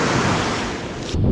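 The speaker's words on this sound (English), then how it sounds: "The wind is picking up for sure." Strong wind roars across a microphone at the sea shore while fishing for bluefish, a dense continuous rush mixed with surf, loud and unbroken with no speech.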